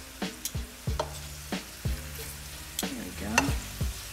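Corn tortillas frying in a pan for taco shells: a steady oily sizzle broken by repeated clanks and scrapes of a utensil turning them, close and moderately loud, with no talking.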